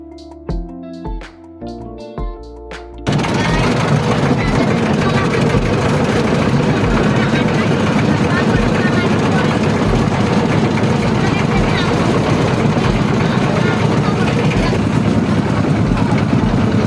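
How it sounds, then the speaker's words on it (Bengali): A country boat's engine on a village river ferry crossing bursts in after a few seconds of voices and chatter, then drones loud, close and steady to the end. "ওই যে নৌকা আসতেছে, নৌকা পারাপার"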